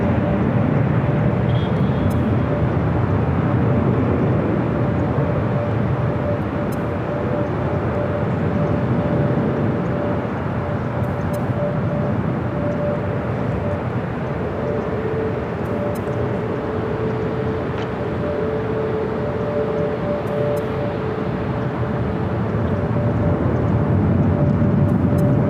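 Heavy Boeing 747 airliner at Los Angeles airport, a steady loud broadband jet roar holding for the whole stretch with a faint tonal whine, no speech.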